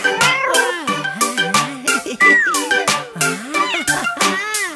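A cartoon cat meows in a cheerful nursery rhyme for kids, its sung, sliding meow-like notes rising and falling over bright, steady backing music with a rhythmic beat throughout.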